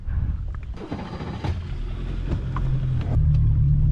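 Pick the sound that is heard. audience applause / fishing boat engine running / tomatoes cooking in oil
fishing boat engine running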